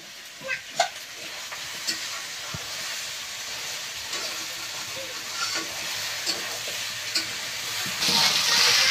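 Desi chicken and potatoes stir-fried for kosha in a pan, giving a steady close sizzle with scraping stir strokes and small clinks, the hiss rising louder near the end; no one speaks.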